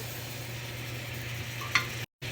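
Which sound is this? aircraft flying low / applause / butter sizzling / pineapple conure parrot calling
butter sizzling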